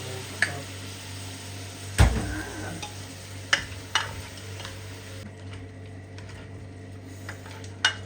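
Shrimp sizzle gently in a pan of taro leaves cooked in coconut milk, a soft steady frying hiss broken by a few sharp clicks and taps of a utensil against the pan.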